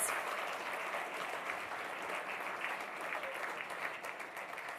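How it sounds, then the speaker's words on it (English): An audience at a democracy forum in the Acropolis Museum claps in dense, sustained applause that stays even throughout. "Give them a round of applause."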